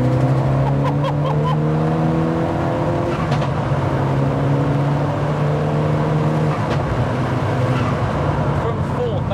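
A 370 bhp widebody MK5 Golf GTI pulls hard in fourth gear, its engine a loud, steady drone with climbing harmonic tones that swell and hold, while voices talk faintly beneath.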